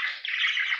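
A male budgerigar in a home breeding cage gives a bright, continuous chirping warble, close and clear, lasting under a second.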